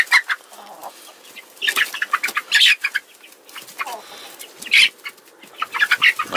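Chickens and a rooster cluck and call in short bursts close by, with a few brief wing flaps among them.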